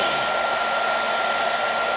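A heat gun blows hot air over carbon fiber vinyl laid on a Chevy emblem, giving a steady, loud, even roar that fills the whole stretch with no talking.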